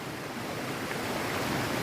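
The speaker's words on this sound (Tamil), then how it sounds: "தண்ணியோட சவுண்டு எப்படி வருது பாருங்கள்" Water from the Kolli Hills waterfall rushes straight down off the mountain in full flow, making a steady, dense roar that stays loud and unbroken throughout with no voices.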